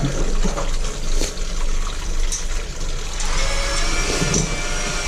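Water rushes and trickles steadily into a Grohe concealed toilet cistern, a loud, close, continuous hiss of refilling.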